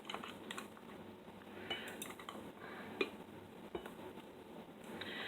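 A utensil scoops spicy cabbage kimchi out of a jar. Faint, soft scraping and occasional clinks of metal against glass sound close by, with no one talking.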